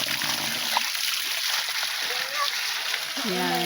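Fresh tap water runs steadily in a rural province, a continuous splashing flow with people talking over it and brief tonal voices near the end.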